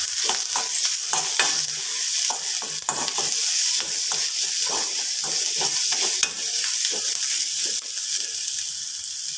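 Ginger paste, green chili and curry leaves sautéing in hot oil for an egg masala curry, with a constant frying sizzle and rapid, repeated spoon scrapes and taps against the pan, close and busy.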